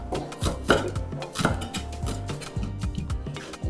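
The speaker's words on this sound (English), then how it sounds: "I need to slice my this scallion or green onion and add it to the" A knife slicing a scallion on a cutting board in a home kitchen, a quick series of light, crisp taps in an uneven rhythm, close and moderately loud with no talk.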